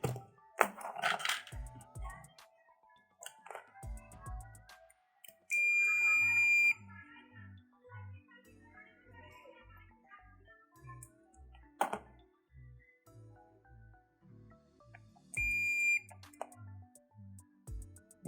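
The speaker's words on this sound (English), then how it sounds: "I kept the meter in the buzzer range." A multimeter's continuity buzzer sounds short electronic beeps at intervals while testing an RCF ART 715-A active speaker with a blown fuse, two longer steady tones standing out, among faint clicks and handling noises, with no talking.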